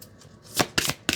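A few quick riffling bursts, like cards being shuffled, come in three short crisp rushes close to the microphone.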